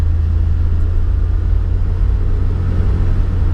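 An old Mopar car pulls steadily in second gear, its engine a loud, constant low rumble heard from close inside the cabin, with no talking.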